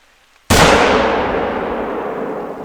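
A single loud .338 rifle shot in the hunting game theHunter: Call of the Wild cracks sharply after a brief quiet, then its broad boom rolls and decays slowly for the remaining two seconds.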